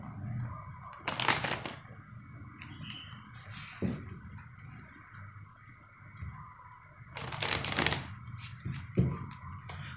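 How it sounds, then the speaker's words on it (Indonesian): Love Oracle cards being shuffled and drawn, two loud riffling bursts separated by softer clicks and card handling, close and alone without talk. "kita tarik beberapa kartu dari Love Oracle"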